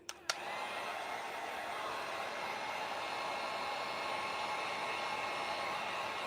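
A hair dryer blows steadily on a pink glass Christmas ornament craft, a loud, even whoosh that starts just after a couple of sharp clicks and runs unbroken to the end.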